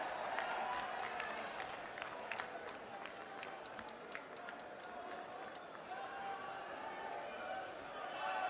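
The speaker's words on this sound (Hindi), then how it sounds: "जरा जोरदार तालियों से स्वागत करें।" A political rally crowd in Mhow, Madhya Pradesh, claps steadily, a dense rattle of applause that is fairly distant and lasts throughout, with a voice faintly audible over it.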